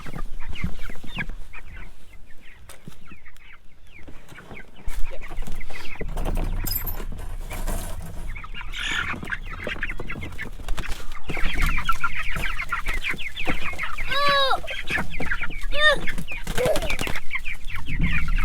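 Meat chickens on a homestead cluck and chatter close by, with busy overlapping calls, a few rising squawks and some wing flapping.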